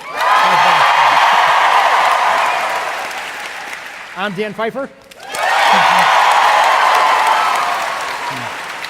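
Applause and cheering from a live podcast audience at a Chicago show, a loud sustained wash of clapping and whoops that dips for a brief spoken line from the stage, then swells again.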